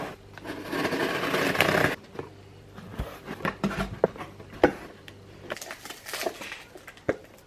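Cardboard and plastic packaging from an Amazon delivery is torn and rustled open, a burst of ripping followed by scattered thumps, crinkles and handling clicks, close and moderately quiet.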